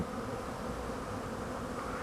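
A steady, close drone rises from a colony of chemical-free honeybees at their hive in winter, the buzzing even and uninterrupted, no one speaking.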